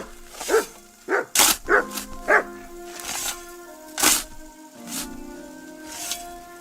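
Mats, a dog in the video game Kingdom Come Deliverance II, lets out a string of sharp, moderately close barks in irregular bursts, a few in quick succession and then spaced apart, with a faint tonal background between them.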